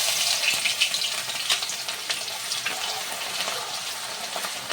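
Garlic paste frying in a pan with whole spices (bay leaf, cloves, cardamom, cinnamon): a bright, continuous crackling sizzle, loudest at the start and easing slightly, with a few stirring scrapes and no voices.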